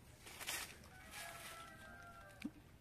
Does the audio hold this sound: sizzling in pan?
no